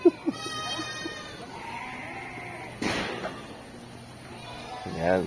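Anglo-Nubian goats on a farm bleat in several drawn-out, wavering calls, with a sudden thud partway through and a final bleat near the end.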